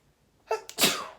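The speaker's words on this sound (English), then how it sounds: "oh, I'm sneezing, hold on" A single close, sharp sneeze preceded by a quick inhale, in an otherwise quiet room.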